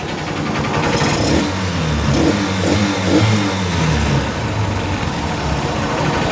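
A Honda Supremo motorcycle engine fitted with a piston-type carburetor runs steadily and revs in mild, continuous swells. The engine sound is loud and close throughout.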